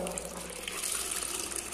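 Water poured and wrung from a cleaning cloth while waxing a house floor, a soft continuous trickling splash at close range, fairly quiet with no talk over it.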